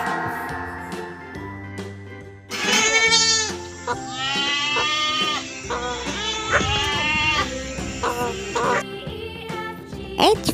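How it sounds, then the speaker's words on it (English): A goat bleats several times in loud, wavering cries over a bright children's alphabet tune with steady backing music. "G for goat."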